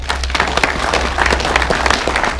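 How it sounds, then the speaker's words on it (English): A room full of people applauds themselves at a morning gathering: a thick, continuous wash of clapping at close range, steady and fairly loud throughout over a low background hum. "Another round of applause for yourselves."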